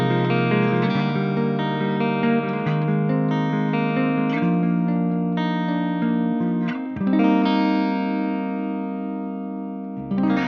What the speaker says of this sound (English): this is the guitar straight into the amp, channel 1, clean channel of the BH4 with the loop completely bypassed